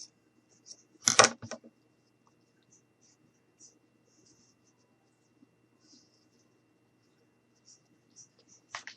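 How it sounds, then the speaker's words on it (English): Scissors snip through fabric or felt while a quiet book page with a hot air balloon design is assembled: one loud cluster of close cuts early on, a faint cut at the end, and near silence between. "So I'm just going to cut a little bit off here"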